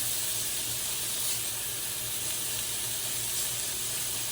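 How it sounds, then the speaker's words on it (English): Chicken sears in a hot pan with a steady, even sizzling hiss that holds constant throughout, close up and moderately quiet with no speech. "Really just waiting on this last piece here to sear up a little bit"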